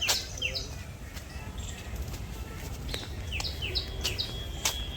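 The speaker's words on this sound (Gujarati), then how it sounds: "પક્ષીઓનો કલરવ જુઓ" Birds chirp in a green wooded garden near the hilltop temple at Chotila, giving short repeated high tweets and sweeping calls from several directions over a soft, steady outdoor background, with no talk.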